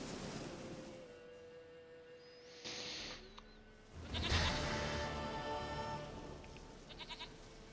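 A goat in The Witcher 3: Wild Hunt bleats loudly and drawn out, twice in close succession over a rushing, surf-like ambient bed, with a few softer sounds trailing off near the end.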